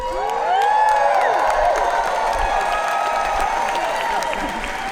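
A packed Comic-Con Hall H audience at a Star Trek: Picard panel bursts into loud, sustained applause with cheers and whoops. The clapping swells early and stays dense and roaring throughout.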